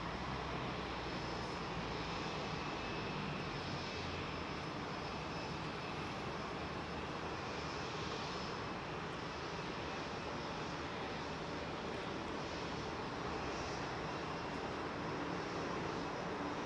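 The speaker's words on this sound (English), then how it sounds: "Oh, Qatar, sorry, Saudi 777 outbound." Saudi Boeing 777 jet heading outbound at Heathrow, a faint, even wash of distant engine noise held steadily throughout without speech.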